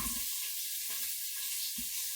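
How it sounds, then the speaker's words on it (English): Chopped onion sizzles steadily in hot oil in a pan, a bright continuous frying hiss with a few soft stirring bumps, close and alone. "in first I'm going to put my 1 onion that I've chopped up and just let that start to fry"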